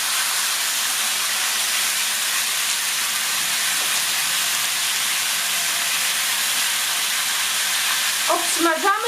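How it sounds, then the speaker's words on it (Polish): Pork ribs sizzle and spit in a pan over a fairly high flame, a steady broadband frying hiss that runs without a break, with a few faint clinks from the pan near the end. "Żeberka nam się smażą"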